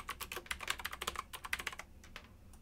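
Rapid, uneven clatter of keys on a computer keyboard during video-editing work, a burst of clicks that fades out near the end, close and fairly quiet with no voice.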